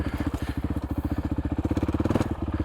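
A 2026 Honda CRF450X dirt bike with an uncorked engine revs steadily in second gear under light throttle, its rapid, even single-cylinder pulses chugging close and loud with no voices.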